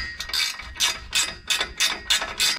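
A ratchet loosens 13mm exhaust bolts on a Mahindra Roxor, clicking in a close, loud, steady rhythm of about eight quick bursts with short pauses between strokes.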